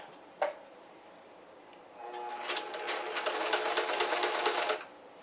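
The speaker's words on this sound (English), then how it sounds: "So we're just going to go ahead and sew that all the way around." A sewing machine runs steadily for about three seconds, stitching a pair of shorts all the way around, with a fast, even whir rising after a single sharp click near the start.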